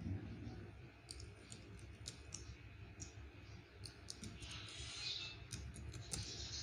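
Computer keyboard typing and mouse clicks heard faintly, scattered quick taps in irregular bursts over a low background hum.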